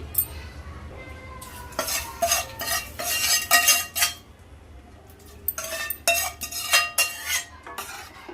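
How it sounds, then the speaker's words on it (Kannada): Fried onion-garlic tempering going into ridge gourd dal in Andhra style, with bursts of metal spoon scraping and clanking against the pan and brief sizzling, in uneven clusters close by. "ನೋಡಿ ಈಗ ಒಗ್ಗರಣೆ ಹಾಕ್ಕೊಳ್ತೀನಿ"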